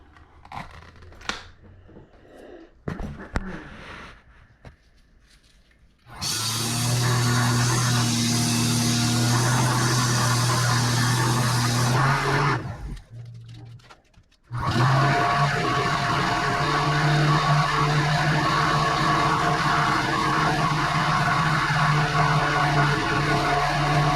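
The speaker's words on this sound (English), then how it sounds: "with your rough sandpaper and then proceed to smooth it out" Rough sandpaper grinds against a cork rod grip in two long, loud, continuous stretches with a short pause between them, steady and close up, preceded by a few scattered handling knocks.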